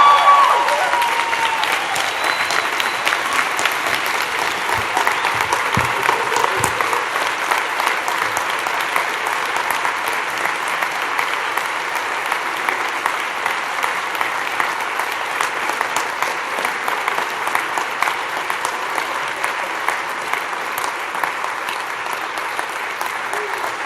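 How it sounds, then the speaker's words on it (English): Long, sustained standing ovation for Ellen at the closing ceremony of the Social Enterprise World Forum 2017 in Christchurch, a large crowd clapping loudly and evenly with occasional cheers. "I'd just invite you to give her a huge stand-in round of applause."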